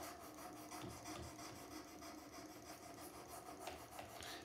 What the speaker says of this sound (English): These are very hard to sharpen because there's not a lot of sharpeners that can do that small of a blade.